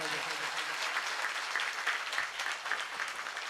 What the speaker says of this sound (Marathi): मृदंगाचार्यासाठी एकदा जोरदार टाळ्या वाजवा